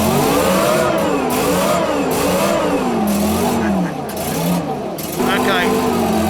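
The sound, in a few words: armoured vehicle engine revving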